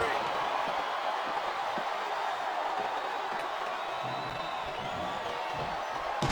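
Steady roar of a large arena crowd cheering throughout a WWE SmackDown vs. Raw 2007 wrestling video game match, with commentators talking over it.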